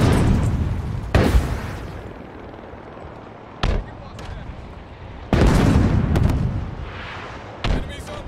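Tank cannon fire in a multiplayer video game on a BTB map, several loud, sharp booming blasts spaced a few seconds apart, each trailing into a rumble, with players talking between the shots.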